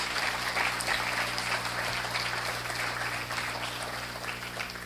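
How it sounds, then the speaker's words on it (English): An indoor audience claps at a community talk, a steady wash of applause that holds at a moderate level from start to finish without pause. "Give yourself a hand of applause."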